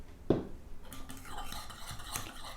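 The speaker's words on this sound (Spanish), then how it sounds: "Mezclamos también." A homemade sage deodorant mixture with drops of sage essential oil being stirred in a container, one sharp clink of the utensil followed by soft, close scraping and swirling, no talking.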